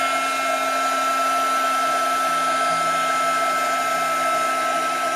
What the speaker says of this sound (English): Now I'm simply going to use my heat gun to activate the embossing powder.